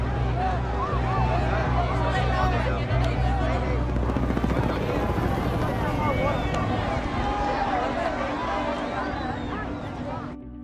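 Helicopters thunder overhead above a dense crowd of people hoping to be evacuated, a continuous loud rotor drone mixed with crowd babble and voices throughout.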